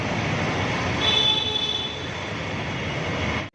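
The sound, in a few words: Kochi metro train at station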